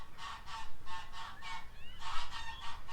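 A backyard goose honks loudly and insistently in a fast series of nasal calls, close by, with brief pauses between bursts.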